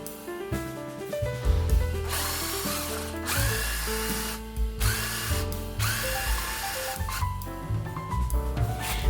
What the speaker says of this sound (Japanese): 次に木の割れを防ぐために皿取りをします。